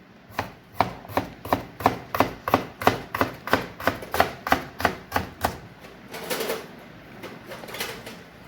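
Sharp kitchen knife slicing vegetables on a cutting board: about sixteen crisp, evenly spaced chops close up, then a softer scraping, rubbing sound as the slices are moved.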